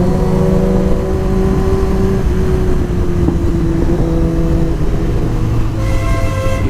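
A motorcycle engine drones on a weekend breakfast ride through traffic, a loud, steady hum whose pitch rises and falls as the bike speeds up and slows down.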